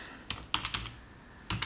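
A computer keyboard is typed on in short bursts, with about half a dozen sharp, close key clicks spaced unevenly over a quiet room tone.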